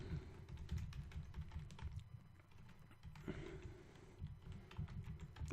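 Fingers type a name on a computer keyboard during Windows 7 setup, a quick run of soft, close key clicks with a brief pause partway through.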